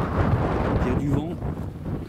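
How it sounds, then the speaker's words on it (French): Outdoor wind at a night paranormal investigation site, low rumbling gusts buffeting the microphone, with people talking in French nearby. "Il y a du vent."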